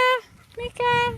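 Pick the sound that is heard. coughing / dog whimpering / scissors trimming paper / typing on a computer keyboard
dog whimpering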